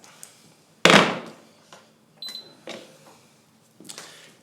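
A racquet stringing machine clamp set onto a tied string: one sharp, loud clack followed by a few softer knocks and clicks.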